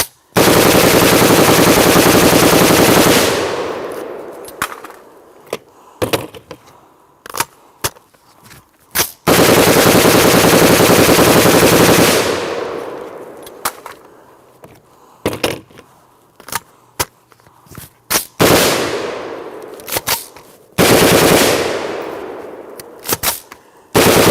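Long full-auto bursts from a POF-USA rifle rip out close and loud, each several seconds long, broken up by scattered single shots and short pauses, with no voices over the firing.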